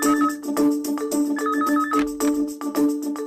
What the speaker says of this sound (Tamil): நான் சொல்றது சரின்னு போன் பண்ணி அடிக்குது